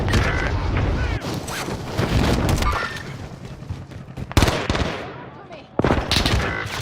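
Pistol shots ring out during a Warzone match, quick loud pops in short bursts mixed with other gunfire and game noise, while players talk over the action.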